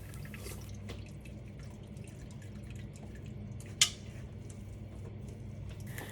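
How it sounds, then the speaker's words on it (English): Grated ginger is pressed with a wooden spatula to squeeze out its water, giving faint wet squelches and soft drips with one sharp clink partway through, close and quiet. "With the help of this wooden spatula, I'm going to be pressing this a little bit more."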